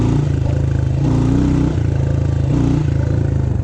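A fuel-injected Honda CRF110 pit bike engine runs loud and close in third gear, a rapid buzzing putter that rises and dips slightly in a few short surges.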